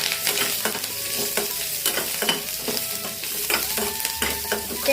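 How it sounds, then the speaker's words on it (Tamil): Onion, tomato and garlic sautéed in a pan for a quick non-veg curry, with a steady sizzle of frying beneath repeated scraping strokes of a stirring spoon, close and continuous, with no talk. "அது கூட நம்ம எடுத்து வச்சுருக்க வெங்காயம், தக்காளி, வெள்ளைப்பூடி இது எல்லாத்தையுமே வந்து வதக்கிக்கலாம்."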